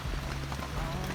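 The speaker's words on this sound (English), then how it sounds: "I think it's just mostly dripping from the trees now and wind" Rain dripping from trees onto a tent while backpacking near Humpback Rocks on the Appalachian Trail in Virginia, a close, dense patter of drops over a low steady background.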